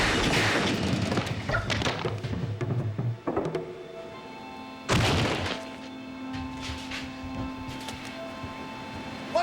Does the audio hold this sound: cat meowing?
no